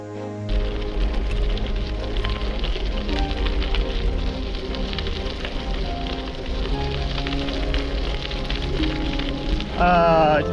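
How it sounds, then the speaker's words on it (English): Rain patters steadily through the trees along a forested rail trail, a dense, close, continuous drizzle of drops on leaves and ground, with a short voice near the end. "It's raining on me."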